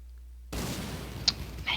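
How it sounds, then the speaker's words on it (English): Fireworks go off in the Pokémon Black 2 video game, a sudden burst of crackling noise after a moment of silence, with a couple of bright pops near the end. "Fireworks!"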